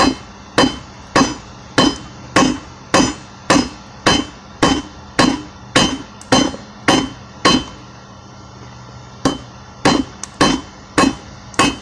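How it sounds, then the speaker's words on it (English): Steady, ringing hammer blows forging the end of a railroad spike, about sixteen evenly spaced strikes, loud and close with no talking. "hammering out the end of the spike"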